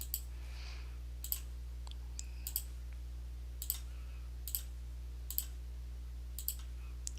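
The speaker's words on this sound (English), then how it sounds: "I'm just clicking each of these lines until everything looks nice and in line with each other." Sharp, sparse computer mouse clicks while lines in a drawing are adjusted, about a dozen dry ticks at irregular intervals over a steady low electrical hum, with no voices.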